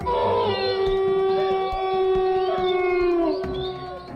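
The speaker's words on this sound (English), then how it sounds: "With the wolves and other animals going crazy" Wolves howling at a campsite in woodland, long sustained overlapping howls that rise and fall loudly throughout, with a voice talking underneath.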